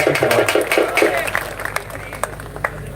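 Crowd at an outdoor wrestling ground in Maharashtra applauding, a burst of scattered clapping and cheering that thins into sparse claps, with voices murmuring through it.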